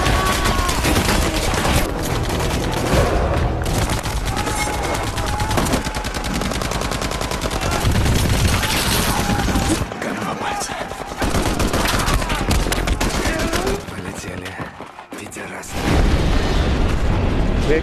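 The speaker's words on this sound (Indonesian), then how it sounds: "suara tembakan kembali memecah udara, pertempuran pun berlanjut dengan intensitas yang lebih brutal" Gunfire rages through a war film battle set in the Yugoslav conflict, with sustained dense bursts of shots and booms filling the scene, a brief lull near the end before the firing surges back loud.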